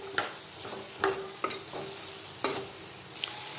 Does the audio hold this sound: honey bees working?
no